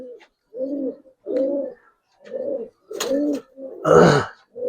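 A male pigeon with a red neck coos close by in a slow series of about six throaty calls with short pauses between them, the last one rougher and louder.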